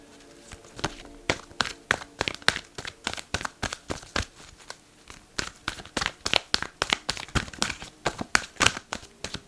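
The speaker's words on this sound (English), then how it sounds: "I'm gonna shuffle 3 times" Rapid, crisp riffling of tarot cards, repeated in a steady run of sharp flutters, close and clear with no talking.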